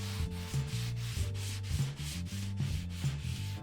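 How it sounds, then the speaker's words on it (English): A coarse sanding sponge rubbed back and forth over a drywall surface, a steady rhythmic scratchy rasp of about eight strokes, close and fairly loud with no talking. "I'm going to take a sanding sponge, basically. It's kind of a coarse one. And just go through and sand it down to knock down the high spots"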